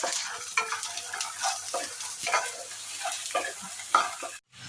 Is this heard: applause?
no